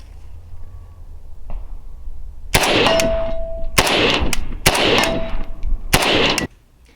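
Shots from an RAS47 rifle ring out in four rapid bursts after a quiet start, sharp and loud with metallic ringing between cracks, then silence.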